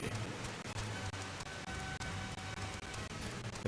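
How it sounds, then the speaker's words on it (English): Stormy rainfall in the Final Fantasy 14 video game, a continuous broad hiss of heavy rain with a faint low hum underneath and small dips in level, steady and fairly quiet, no voices. "It is definitely storming."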